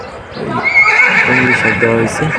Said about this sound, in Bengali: সাইডে কিন্তু ঘোড়া ডাকতেছে